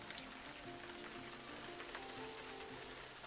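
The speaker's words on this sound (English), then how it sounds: "Can you hear that rain?" Soft, steady rainfall patters faintly and continuously, with a quiet low hum underneath and no voices.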